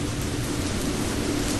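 Rain and thunder at a theatre performance of the play Douze en colère: dense, steady broadband hiss of heavy rain with a low rumbling undertone, loud and unbroken throughout with no voices.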